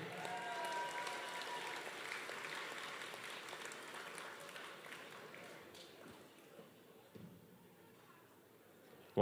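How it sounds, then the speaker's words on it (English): Faint, steady applause from a supporters' audience for a voucher prize winner at a Mayo GAA match-night event, a dense patter that thins and fades over about nine seconds. "Another round of applause for this young lady"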